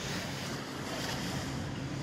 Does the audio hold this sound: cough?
no